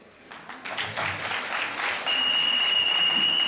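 Audience applauding to thank Mayor Tano Isaac at a ceremony in Transua, steady clapping building after a quiet start and holding strong and close, with a sustained whistle-like tone joining partway through.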